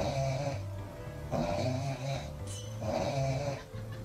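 A cat snoring: slow, rhythmic rasping snores, three close breaths each with a low rattling buzz, heard clearly with no talking.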